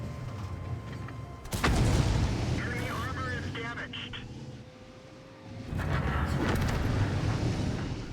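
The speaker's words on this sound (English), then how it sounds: "We can use high explosive round, I believe." A tank in World of Tanks fires a high explosive round, a sudden loud boom that rolls into a long rumble, followed by engine and battle noise and a second heavy blast, with someone talking over it.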